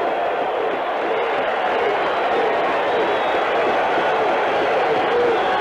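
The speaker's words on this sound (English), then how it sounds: "Roach has the crowd excited." A baseball stadium crowd at a Brewers–Yankees game cheering after an Eephus pitch, a broad, steady roar of many voices from a distance that holds level for several seconds.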